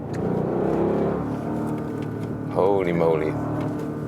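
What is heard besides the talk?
Audi RSQ8 engine revving while driving uphill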